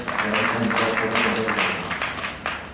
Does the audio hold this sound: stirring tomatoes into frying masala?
no